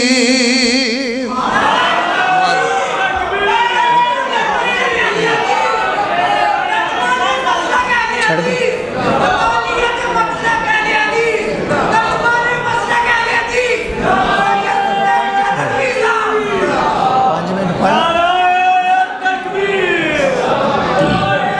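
A large crowd at an Islamic religious gathering chants slogans in unison. The voices are loud, dense and sustained, filling the whole stretch with layered shouting that rises and falls without pause.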